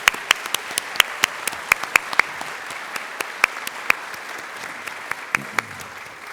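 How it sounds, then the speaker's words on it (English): An audience claps for award recipients at a staff service recognition ceremony: steady, moderately distant applause with many sharp individual claps standing out through the crowd's even patter. "please help us giving one more round of applause to all of the 5-year award recipients"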